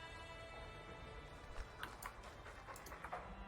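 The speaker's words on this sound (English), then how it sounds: "I like the doggy." A dog in Dragon Age II pants and whimpers softly amid game ambience, a low steady background with quick breathy pants and small whines in the second half.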